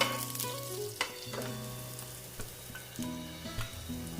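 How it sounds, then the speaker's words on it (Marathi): Ginger garlic paste, green chillies and cumin sizzle in a hot pan while being stirred for vegetable pulao, a steady close crackling fry with light scraping touches of a spoon, no voices. "जिरे नंतर अदरक लसूण पेस्ट मिरची आपण हे परतून घेऊया"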